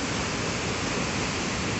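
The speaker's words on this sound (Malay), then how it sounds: "aliran air sungai dari Sawah Tengah Simabua sangat besar, karuah hitam." A swollen, murky river at Lubuk Batang near Sawah Tangah Simabua rushes strongly, a loud, unbroken roar of water filling the scene with no voices.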